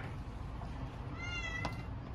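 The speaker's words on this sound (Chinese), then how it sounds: "看我们家的小猫求宠幸了" A domestic cat gives a single short meow in a quiet room, faint and fairly close, over a low steady background hum.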